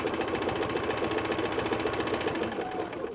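A sewing machine runs steadily at a short stitch length, stitching a patchwork cushion seam with a fast, even mechanical chatter close to the microphone, uninterrupted for a few seconds.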